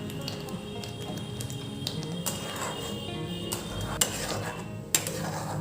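Raw green mango jelly mixture being stirred in a pot after water is added, with steady scraping and clinking of a utensil against the metal and two sharper knocks near the end.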